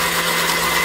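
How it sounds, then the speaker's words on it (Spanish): A blender motor runs steadily, grinding chickpeas and onion at full speed with a dense, continuous whir that stays loud and even throughout the short stretch. "Cuando el motor ya cogió y está licuando"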